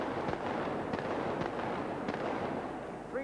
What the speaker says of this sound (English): 3 rounds fired again.